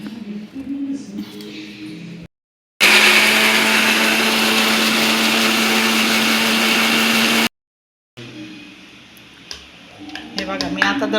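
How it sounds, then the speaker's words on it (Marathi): Kitchen mixer grinder whirring loudly and steadily for about five seconds while grinding spices into a fine paste for egg shev bhaji, with quieter kitchen sounds and talk before and after. "हे सगळं मी मिक्सरमध्ये दळून घेते"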